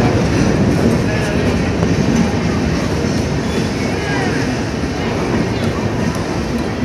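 A long Ganga Sutlej Express train on the Dhanbad–Ferozpur route roars past close by with a steady, loud rumble and rattle of wagons, continuous throughout, while people talk faintly under it.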